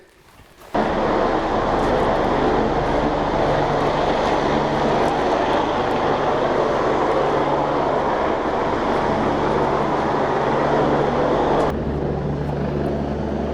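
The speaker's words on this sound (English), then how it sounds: "This helicopter's hovering around and man, it's so loud. It's echoing off the sides of the valley" Loud, continuous helicopter rotor and engine roar as it hovers in a narrow valley at Putangirua Pinnacles, New Zealand, steady and booming, echoing off the valley sides, cutting off abruptly near the end.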